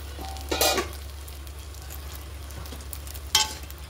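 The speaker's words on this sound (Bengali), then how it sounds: "আবারও ঢাকা দেব, দিয়ে ও পিঠটা একটু হালকা ভেজে নেব।" Eggplant slices crisp in a little oil in a covered pan, a soft, steady sizzle over a low hum, broken by two short, sharper bursts of stirring or handling.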